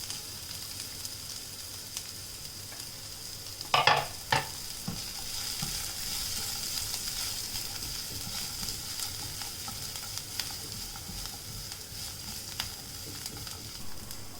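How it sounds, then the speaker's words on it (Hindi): Small chopped carrots fry in a pan with a steady, moderate sizzle, broken by a few sharp scrapes and knocks of stirring early on, then continuing evenly without talk. "अब इसमें मैं डाल दूंगी ये आधी छोटी कटी हुई गाजर"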